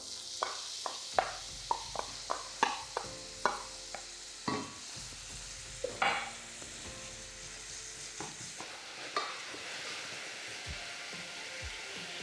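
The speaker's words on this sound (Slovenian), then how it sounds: "dodam na olje sekljano čebulico" Chopped onion sizzles steadily in hot oil in a pan while cooking sarma, with a spoon clacking and stirring in a regular rhythm before the frying hiss carries on alone.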